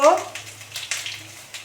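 Sliced pointed gourd frying in a pan, giving a steady soft sizzle with faint crackles throughout, close and moderately quiet beneath a low background hum.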